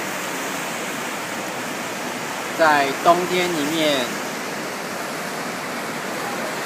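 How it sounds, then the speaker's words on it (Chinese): Artificial waves surge steadily through an indoor spa wave pool on a snowy winter day, a constant rushing wash of water that continues beneath a short burst of speech. "这个是人造海浪"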